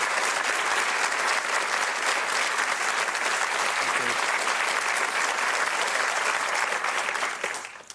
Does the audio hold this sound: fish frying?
no